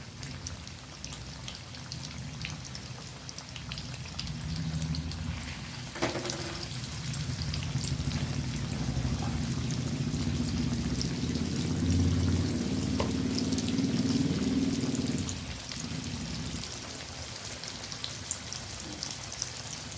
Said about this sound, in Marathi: जेवढे तेलात बसतील तेवढे आपण टाकून घेतोय थोडे थोडे करून फ्राय करून घ्यायचे